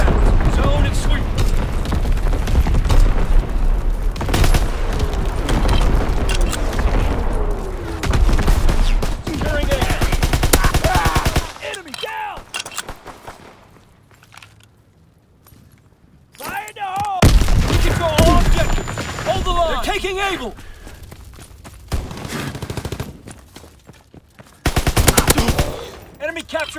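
An incendiary mortar barrage in the Call of Duty: WWII game: heavy booming impacts and rapid machine-gun fire in dense, loud waves. A quieter lull falls midway before more blasts, with voices talking over the battle.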